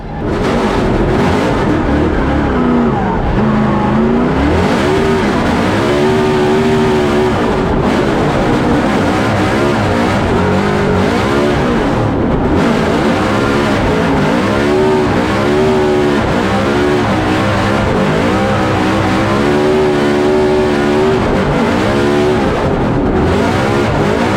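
Drift cars competing at a Formula D event in New Jersey, among them a Toyota Corolla, with loud engines revving and wailing continuously, pitch sweeping up and down through throttle changes, plus hints of tire squeal.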